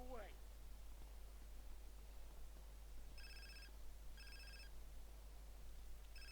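A mobile phone rings during a 9/11 memorial event in a role-play game, giving three short bursts of a bright, beeping ringtone about a second apart. The ringtone sounds faint under steady hiss and static.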